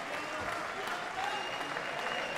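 Crowd applause fills the stands at a men's team table tennis match at the European Championships, a steady broadband clapping that runs throughout with no clear voices on top.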